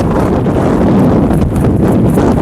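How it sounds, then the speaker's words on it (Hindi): Strong gusting wind buffeting a camera microphone outdoors, a loud, close, constant rumbling roar throughout the short stretch with no voices. "कैमरा कभी भी गिर सकता है नीचे, इतनी तेज हवा चल रही है।"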